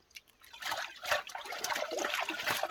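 Clear spring water trickles and splashes where it flows out at the foot of a bluff, a steady bright outdoor babble that is close and continuous, with no voices.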